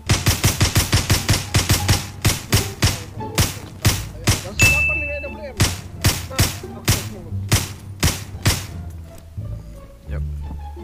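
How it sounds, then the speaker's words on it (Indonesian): Gunfire in a shooter video game, a long run of sharp, loud, evenly spaced shots fired in quick bursts, with brief pauses and a faint metallic ring partway through, a voice occasionally speaking underneath. "Orang tembak, orang tembak."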